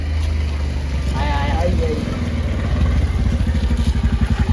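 A motorcycle engine runs close by, a low rumbling idle that grows steadier and more pulsing toward the end, with people talking over it.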